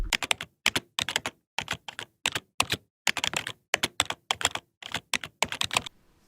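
Steady typing on a computer keyboard while entering paragraph text, with close, crisp key clicks in quick bursts separated by short pauses, and no voices.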